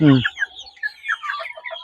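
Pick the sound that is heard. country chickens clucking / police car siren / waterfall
country chickens clucking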